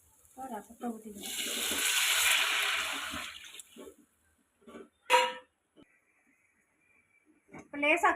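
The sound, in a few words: pouring tomato rasam into pan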